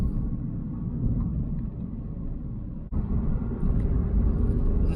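Interior road noise from a car pulling up through fifth gear toward 60 mph at around 3,000 rpm, a steady low rumble of engine and tyres on stiff suspension with low-profile tyres, brief dip midway then continuing.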